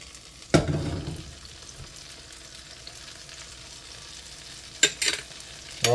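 Garlic hits a hot pan with blistered tomatoes and onions, a sharp burst of sizzling followed by a softer steady fry and a few quick stirring scrapes near the end.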